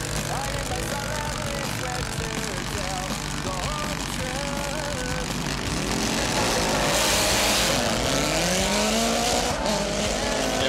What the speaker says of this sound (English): here we have Eddie Downs on his supercharged GS1000 based machine